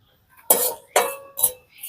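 Raw ajwain seeds go into a lightly heated dry wok and get stirred, making three sharp scraping, rattling bursts about half a second apart, close and fairly loud, each fading quickly, with no talk.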